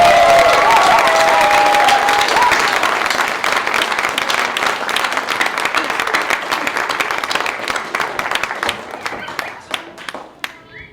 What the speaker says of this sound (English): let's round of applause for these wonderful high school musicians